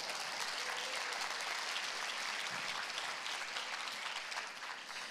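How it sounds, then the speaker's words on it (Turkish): Audience applause at a Turkish talk on smoking and COPD, a dense, steady crowd clapping that fills the room and stays loud throughout with no voices over it. "Bu kısımda alkışlayabilirsiniz."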